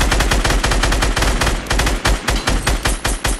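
Rapid automatic gunfire in the battle royale game Fortnite, a loud, continuous stream of sharp shots with a steady rattling rhythm and no voices over it.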